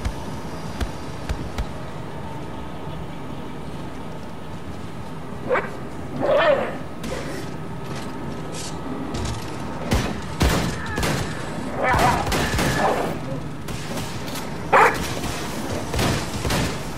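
In Wolfenstein 2, a dog barks, yips and whimpers amid bursts of gunfire, the shots cracking in irregular clusters over a low game ambience, with some voice underneath.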